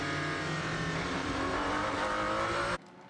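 A pack of LMGT3 race cars, led by a BMW, screams past at speed during the 6 Hours of Imola. Loud, dense engine roar holds steady, then cuts off abruptly near the end.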